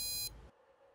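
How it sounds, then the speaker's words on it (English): A drone motor's electronic speed controller gives a short, clear electronic beep of steady pitch lasting about a quarter second, then the sound stops abruptly, leaving quiet room hum. "If you then send it any throttle value, literally any throttle value, you'll hear this beep."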